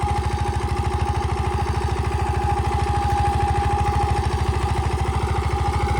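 A 15 HP Yuvraj 215 small tractor engine runs close by, a steady low chugging with even, rapid thumps and no voices.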